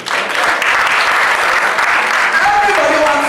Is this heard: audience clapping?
yes